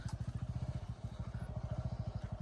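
A motorcycle rides along a rough forest path near Madanapalle, its engine thumping in a steady, rapid low pulse close by, loud and continuous with no speech.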